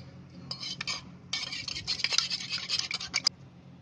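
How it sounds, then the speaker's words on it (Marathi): Four eggs and two spoons of milk whisked in a bowl with a metal utensil, rapid scraping and clinking strokes coming in bursts, close and fairly quiet, with a brief pause near the start. "अंडा आणि दूध असं फेटून घ्यायचं"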